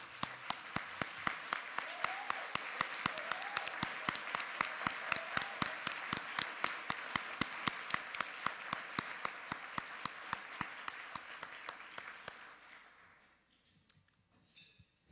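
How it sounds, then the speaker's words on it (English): Long, sustained applause at a spring gala for a community nonprofit, a thick crowd of clappers joined by a few loud, regular close claps, carrying on for about twelve seconds before tapering off. "give them a round of applause, and thank them for their dedication to the community"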